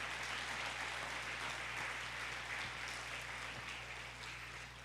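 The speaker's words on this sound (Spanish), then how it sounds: "Dale un aplauso fuerte al Espíritu Santo de Dios." Church congregation applauding loudly and steadily in a steady, dense wash of clapping that holds throughout and tapers slightly at the end, with a low steady hum beneath.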